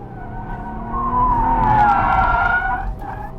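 Toyota GR Supra on an autocross course, tires squealing loudly in a sustained skid that rises and falls for a few seconds over the engine's drone, close and unaccompanied by talk.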